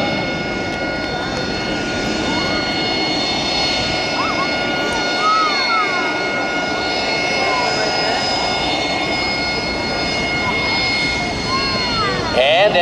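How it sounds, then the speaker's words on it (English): An AV-8B Harrier II jet back-taxiing down the main runway at the 2006 MCAS Miramar airshow, a loud sustained engine roar and whine with high tonal harmonics, an announcer talking over it. "what do we have coming down here on the main runway on the back taxi? None other than the AV-8B"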